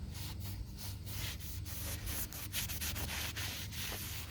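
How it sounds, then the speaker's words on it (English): A rag wipes brake cleaner across a brake rotor for a 2002-2005 Ford Explorer or Mercury Mountaineer rear brake, producing soft, steady rubbing strokes in a quick repeated rhythm, close but faint, with no talking. "take some brake cleaner and a rag and just wipe the surface off here on both sides"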